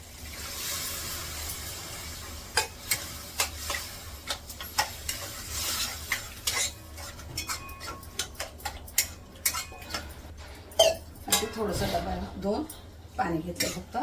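Chickpea curry sizzles as it is sautéed in a pan while a utensil clinks and scrapes in quick, irregular strokes; a voice speaks near the end.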